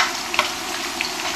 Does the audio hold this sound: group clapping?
no